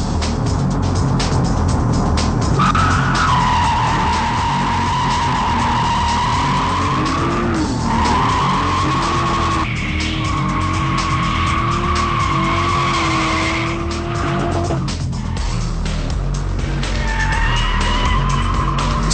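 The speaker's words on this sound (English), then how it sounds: "Gilles going to spin out on that one." Race car tires skidding and squealing as the car spins out during a French racing event, loud and sustained over roaring engine noise, with the squeal rising and falling in long sweeping tones.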